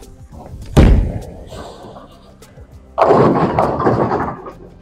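An Atlas bowling ball lands on the lane with a heavy thud, then rolls away with a rumbling roar, close and loud, amid faint background talk.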